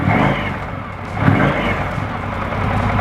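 A 2024 Indian Scout cruiser motorcycle's engine is revved in rain mode, giving a loud, close, rumbling rev that swells briefly and then holds steady.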